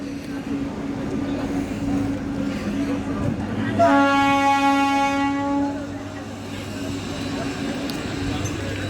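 A train at Khirai railway station sounds a sustained horn for about two seconds over a low rumbling engine drone and station ambience, with voices nearby.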